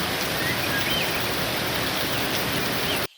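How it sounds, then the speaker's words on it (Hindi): Monsoon rain in the Konkan region falls steadily and loudly in a dense, even hiss for about three seconds, then cuts off abruptly, with no voices. "कोंकण की बारिश सिर्फ मौसम नहीं बदलती, ये एक पूरा अनुभव बदल देती है।"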